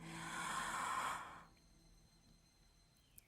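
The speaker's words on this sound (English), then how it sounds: "Take a deep breath in." A deep breath drawn in during a guided meditation for beginners. The airy inhale is close and clear for about a second and a half, then fades into quiet room tone.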